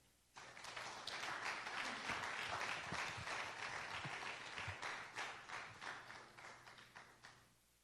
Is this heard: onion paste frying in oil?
no